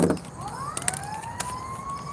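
A siren wails in the distance, its tone sliding upward and holding, heard faintly over background street noise.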